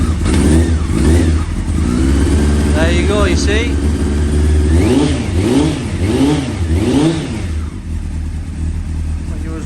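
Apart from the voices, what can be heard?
engine revving, voltage test of regulator rectifier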